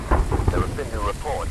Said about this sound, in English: Oh god, I hate the lightning. So loud.